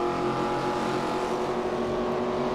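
Race car engines in the NASCAR 25 video game, a dense continuous high-pitched drone of several cars running together in a pack, loud and steady with no talk.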